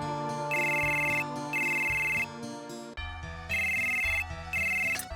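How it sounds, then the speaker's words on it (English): A phone rings in a video game, repeating in bursts, two rings then a pause and two more, over a steady musical game backdrop with no talking. "Phone call."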